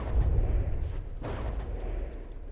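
Mortar fire in the naval combat game From the Depths: a couple of deep, muffled booms close by, the first heavier, the second about a second later, each trailing into a low rumble with no voices.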